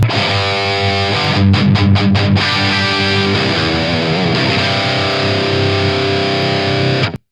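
A loud, distorted electric guitar through the lead channel of a HeadFirst MTL100 amp with no boost plays sustained chords with a few quick choppy strums early on, ringing steadily before cutting off at the end.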